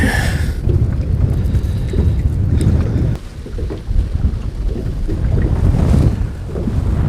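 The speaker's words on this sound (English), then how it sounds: "Now the wind's starting to pick up again." Strong wind gusts across a lake on Bull Shoals while fishing in cold weather, buffeting the microphone with a continuous loud roar that surges and eases, no voices present.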